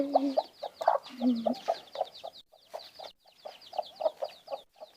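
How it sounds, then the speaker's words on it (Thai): Several chickens cluck close by in quick, uneven bursts, with sharper higher calls layered over the low clucks. "ไก่จ้า"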